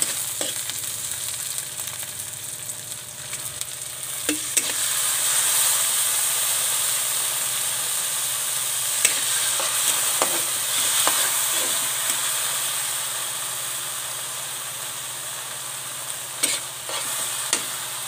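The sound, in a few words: fish frying in pan with soy sauce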